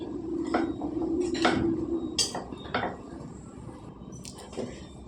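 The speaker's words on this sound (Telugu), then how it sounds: "ఇందులో వడ్డించుకుందాం మనం ఫ్రైడ్ రైస్" Veg fried rice served onto a plate, with a few scraping and clinking strikes of a spoon against the dish, close and sharp, fading to quieter scrapes.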